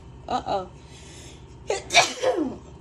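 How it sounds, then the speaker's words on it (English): Two sneezes triggered by black pepper burst out close by, a smaller one followed about a second later by a louder, fuller one, with quiet between. "every time I pull out that black pepper, here come the sneezes"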